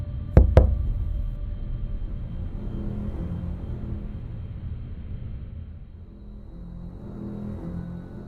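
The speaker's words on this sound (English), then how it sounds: "something knocked. From underneath my bed" Two sharp knocks sound close together from beneath a bed, followed by a low, quiet room rumble that lingers.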